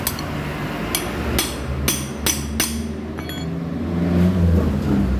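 A hammer taps a bolt on a CB motorcycle engine during repair work: about six sharp metallic knocks spaced roughly half a second apart, close and clear over a steady low rumble of background noise.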